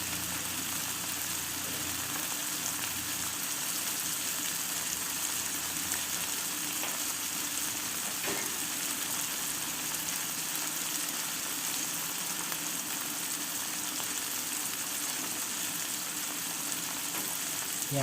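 Two eggs frying in oil in a pan for a tomato and onion omelette give a steady, continuous sizzle, moderately close, with no talking.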